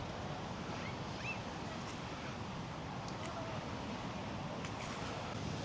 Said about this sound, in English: We are just coming down here to the beach,